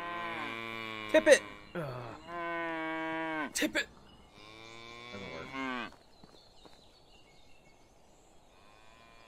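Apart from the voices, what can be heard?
cow mooing in video game Medieval Dynasty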